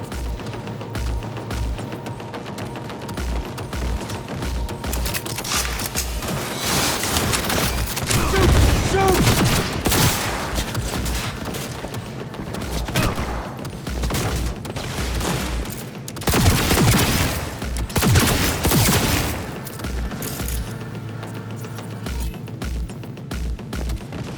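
Sustained gunfire in Cyberpunk 2077, rapid automatic bursts and fusillades, loud and close, with heavier booming volleys mid-clip over game background sound.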